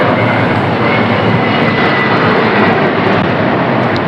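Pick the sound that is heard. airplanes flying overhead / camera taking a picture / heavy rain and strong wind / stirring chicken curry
airplanes flying overhead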